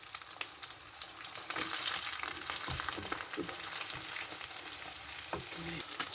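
An egg frying in a pan gives a steady, quiet crackling sizzle, with a few light ticks and pops scattered through it and no talking.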